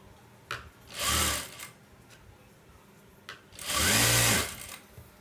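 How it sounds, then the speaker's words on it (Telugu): A domestic sewing machine stitches a folded seam joining pieces of a saree in two loud close bursts of whirring, each about a second long, separated by quieter pauses with small clicks. "ముక్క చీరలకి మామూలు మిషన్ మీద మడతపెట్టి కుడితే చాలా నీట్గా వస్తుందండి"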